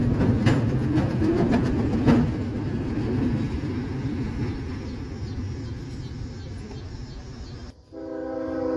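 Freight train with empty cars at the rear rolling past up close, a heavy continuous rumble with rattling wheel clatter that eases slightly before a sudden cut.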